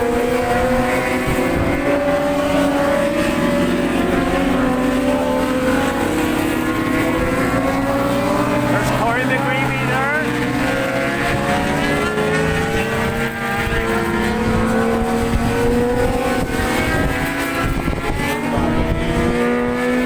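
A pack of 600cc superbikes runs a warm-up lap at Kirkistown race circuit in Northern Ireland, their engines a loud, continuous layered whine that rises and falls in pitch as the bikes pass, with no pauses.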